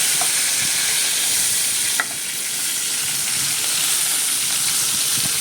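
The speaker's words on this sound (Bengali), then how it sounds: "আমি লো ফ্লেম করে মোটামুটি পাঁচ মিনিট এটি ওপিট করে ভেজে নিচ্ছি" Large prawns fry in a pan on low heat, a dense, even sizzle that hisses steadily from close by with small spits and crackles and no talking.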